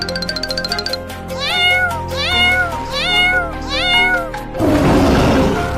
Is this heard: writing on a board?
no